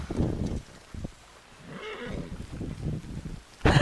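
A horse in Red Dead Redemption 2 online lets out a neigh and snorting whinny amid game sounds, fairly faint and brief, followed by a sharp loud burst at the end.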